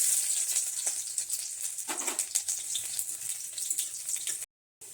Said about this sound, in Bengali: গরম তেলের মধ্যে দিয়ে দিয়েছি শুকনো লঙ্কা। এবার দেবো থেতো করা কিছুটা রসুন।